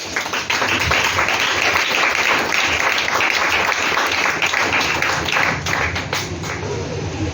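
A church congregation applauds and claps together in praise of Jesus, a dense, sustained wash of many hands at close range, with some thumps and faint voices mixed in.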